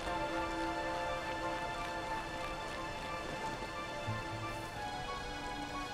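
Rain in the video game Dragon Quest XI, a steady, even hiss of falling drops, with a soft low rumble and quiet game tones underneath.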